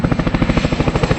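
An aircraft flying a display at about 120 knots makes a loud, close, rhythmic rotor-like chopping drone that pulses steadily throughout.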